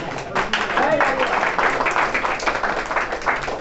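Applause fills a room at a college farewell party, many hands clapping densely and continuously at close range, with voices mixed in beneath the clapping.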